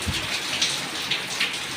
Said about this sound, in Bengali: এই বৃষ্টি থামবে কবে? অজস্র এই বৃষ্টি কি আবার বন্যা নিয়ে আসবে?